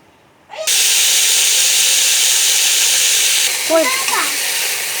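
Oil heating in a kadai for pasta noodles bursts into a loud, steady sizzling hiss that runs continuously once it starts, with a brief voice heard faintly near the end.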